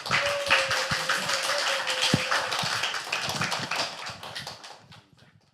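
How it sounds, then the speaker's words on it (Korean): A church audience claps in welcome for a visiting pastor, a dense patter of many hands that holds steady for several seconds before thinning and fading out near the end. "우리 큰 박수로 우리 환영하도록 하겠습니다"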